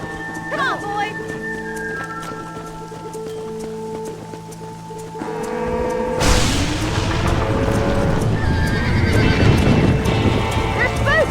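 Horses whinny and neigh, then a stampede of pounding hooves and rumbling bursts in loudly, with a voice shouting, in the Red Dead Redemption video game on PC.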